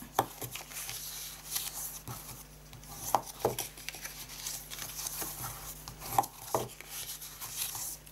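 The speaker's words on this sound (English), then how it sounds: "let's do some folding and burnishing on that" Cardstock being folded and burnished for a small handmade box base, heard as soft intermittent taps, creases and rubbing strokes at close range with a faint steady background hum.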